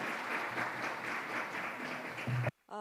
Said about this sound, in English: 여러분 다시 한번 큰 박수 보내주실까요?